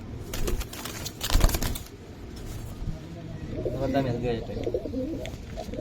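Giribaz pigeons of the Palla line at a pigeon market coo in soft, repeated murmurs, rising more clearly in the second half, with scattered bursts of wing flapping or handling noise early on.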